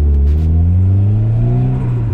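A Ford Sierra Sapphire Cosworth engine pulls hard and loud up from first into second gear, a steady rising roar with climbing harmonic tones and a brief shift near the start.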